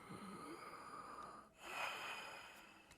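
A character in the Red Dead Redemption 2 video game breathes during a doctor's examination, one faint drawn-out breath and exhale over a steady low background hiss.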